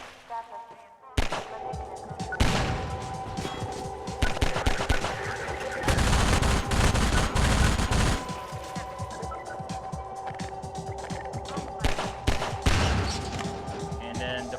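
Combine soldiers in the video game Half-Life 2 fire SMGs in rapid automatic bursts, dense crackling gunfire with dull impacts, loud and continuous through most of the clip alongside game sound.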